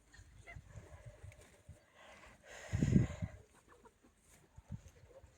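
Farmyard fowl sounds: a louder rooster-like call bursts out midway over scattered clucking and background animal noise, fairly close.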